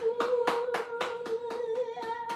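Hands clap on cue in a steady rhythm, about nine sharp, close claps at an even pace over a sustained background tone.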